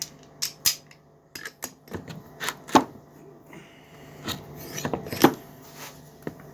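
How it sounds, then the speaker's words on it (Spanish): Screws come out of an air compressor head, giving scattered close scraping, rasping and small metallic clicks from the tool and loose parts, irregular and fairly quiet. "vamos a terminar de sacar los tornillos del cabezal"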